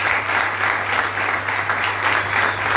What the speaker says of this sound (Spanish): ¿Vos querés darle un fuerte aplauso a este Dios en la cual nos dio una esperanza de vida?